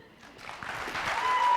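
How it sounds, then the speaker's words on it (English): Audience applause in a theatre, a brief swell of clapping building from faint to moderate and growing steadily louder. "Yes, a warm round of applause for Nick Cricker and Son."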